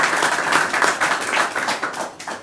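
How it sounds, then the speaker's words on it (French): Applause from an audience at a Congolese community gathering for International Women's Day, a dense, steady patter of many hands clapping together, fairly loud and close, with no voices over it. "Ça mérite des applaudissements."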